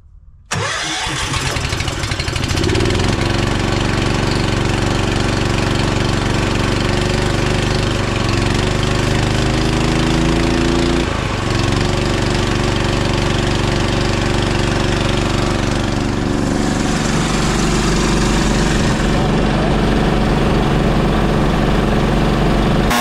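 A small engine on choke cranks, catches and settles into a loud, steady idle with slight changes in pitch, running alone and close by for about twenty seconds.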